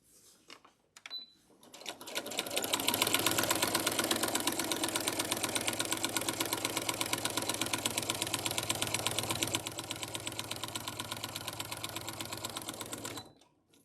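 A sewing machine runs continuously while stitching through a layered quilt sandwich, giving a close, steady rapid mechanical chatter that starts after a brief pause, holds for about ten seconds and then stops.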